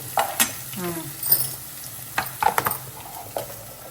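Food sizzles in a hot pan while a ladle stirs and scrapes it, giving a run of soft clinks and scuffs over a constant frying hiss.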